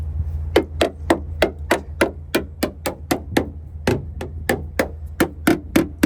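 Repeated knocks on the metal sill and metal body of a Bentley T2, about twenty sharp taps in a steady, slightly uneven rhythm, close and clear over a low background hum.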